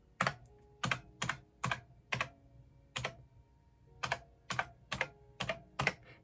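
Keys clacking on a 32-year-old computer keyboard with faulty keys, about a dozen sharp, separate strikes in an uneven rhythm, some in quick pairs, close and crisp in a quiet room.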